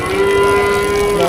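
At a cattle market, a cow lets out one long, loud, steady moo very close by, with crowd and market noise underneath.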